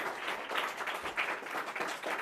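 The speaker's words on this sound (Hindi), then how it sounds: "खड़े होकर तालियां बजाइए, खड़े होकर बजाइए" Applause from a school class playing a quiz game styled on Kaun Banega Crorepati, with dense, steady clapping from many hands, close and fairly loud, pulsing in small surges throughout.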